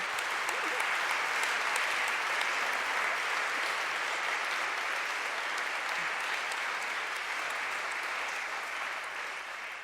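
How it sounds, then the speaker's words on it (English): Sustained audience applause at a conference event on women and climate change, dense steady clapping from a large crowd throughout, easing slightly near the end. "another round of applause for the DSG."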